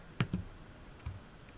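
A couple of light mouse clicks on a laptop, two quick taps close together followed by a softer one, near and quiet with no talking.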